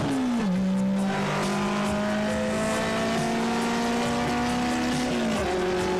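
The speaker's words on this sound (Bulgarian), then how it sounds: "сега е и Бончо Дунев с Шкодата 130 RS" A Škoda 130 RS rally car races close by in a sprint event, its engine howling loud and strained with a sustained high note and sharp pitch drops at gear shifts.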